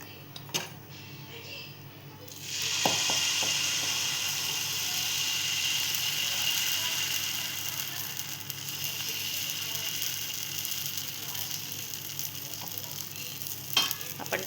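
Batter for a pole pancake poured into a hot pan bursts into a loud hiss that settles into steady sizzling frying, with a few sharp utensil clicks and taps.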